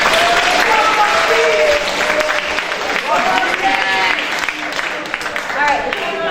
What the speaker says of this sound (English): please give all of the next year sophomores a big round of applause